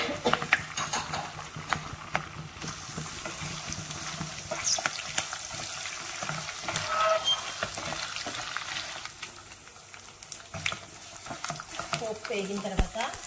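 Chana dal and urad dal sizzle in hot oil as a tempering for tamarind pulihora, a continuous crackling fry with scraping stirs against the pan and a voice talking over it.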